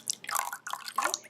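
Milk pours into a bowl that already holds cracked eggs and oil, giving a short, close, splashy trickle in a few bursts that lasts just over a second, with no talking.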